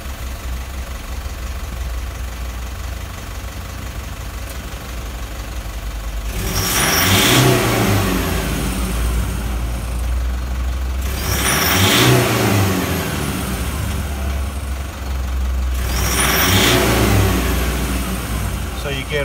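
A car engine revs during a pilot learn procedure: three sharp revs spaced about five seconds apart, each released quickly and falling back to a steady idle, heard up close.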